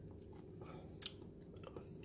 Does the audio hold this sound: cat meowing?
no